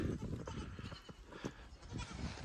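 Baby goats bleating during a winter snowstorm, faint and distant cries scattered under a steady rush of wind or outdoor noise, with no clear talk.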